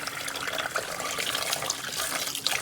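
Tap water runs steadily into a sink while sticky rice is rinsed for mango sticky rice, a continuous close splashing hiss that lasts throughout with no talking.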